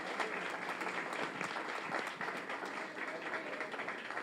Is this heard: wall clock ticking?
no